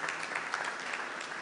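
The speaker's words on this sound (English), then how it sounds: "I want you to give them a round of applause." An audience at a Krishna Mandir Sunday morning service claps for the children's Balvihar class, a brief, steady patter of applause with no talking.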